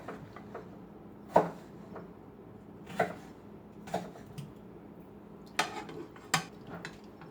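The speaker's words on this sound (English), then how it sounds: "I'm gonna take out the boniatos, put them in a pan" Boniatos, a white-fleshed sweet potato, being moved into a small serving dish, heard as several sharp clinks and knocks of utensil on dish spaced out over a quiet kitchen background.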